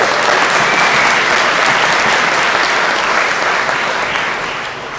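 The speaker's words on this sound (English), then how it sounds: "everybody, round of applause for Charlie" A conference audience at DogeCon 2014 bursts into loud, sustained clapping for a guest speaker, a dense wash of applause that holds steady and then fades slightly toward the end.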